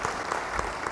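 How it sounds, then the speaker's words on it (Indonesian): A church congregation claps during a sermon, a brief, fairly soft burst of many hands with a few sharper claps standing out. "beri tepuk tangan yang baik bagi Tuhan"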